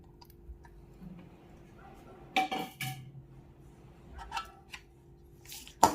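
Cooled cooked rice being stirred into a fried tempering in a pan for lemon rice, with a few sharp clinks of a spoon against the pan and soft scraping between them, close by and fairly quiet.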